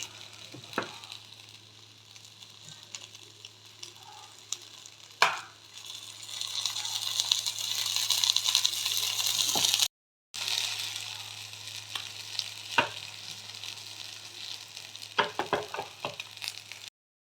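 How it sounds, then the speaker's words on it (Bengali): Bread and egg tikka shallow-frying in a pan with a little oil, a continuous soft sizzle broken by occasional scrapes and taps of a spatula, swelling louder midway before a brief gap. "এইভাবে আমি ভেজে নেব। তেল না দিলেও চলে, অল্প করে উপর থেকে একটুখানি দিয়ে দেবো।"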